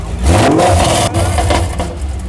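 A supercar at a 2020 LMFP club launch event revs its engine hard, a loud, close roar that climbs and drops in surges over a couple of seconds.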